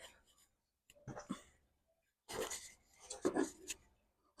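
Scissors cut through blouse cloth in short rasping bursts of snipping and sliding fabric, close up, separated by quiet pauses.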